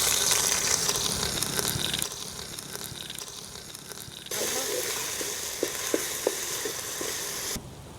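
Ginger and garlic sizzling in hot oil for a village-style Telangana country chicken curry, a steady bright hiss that swells louder partway through, with a few soft clicks of stirring and no talk.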